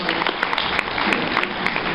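An audience applauds during a Q&A session with an author at a comic convention, a brief dense burst of clapping throughout.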